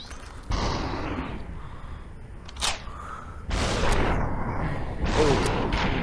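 Gunshots ring out in the VR video game Superhot, several sharp bursts spaced a second or so apart with whooshing tails, loud and close over a low background.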